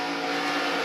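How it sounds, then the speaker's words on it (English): A race car engine held at high throttle gives a loud, steady, buzzing roar, close and continuous for under a second with no talk over it. "Listen to the throttle here."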